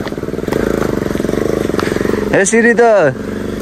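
A motorbike engine chugs along a rough, poorly kept village road, a close, rhythmic putter that pulses steadily and then gives way to someone talking over it near the end.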